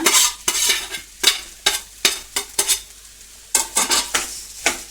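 Potato samosa filling stirred in a pan with a spoon, a series of sharp scraping strokes against the metal over a soft sizzle, loud and close, with no one talking.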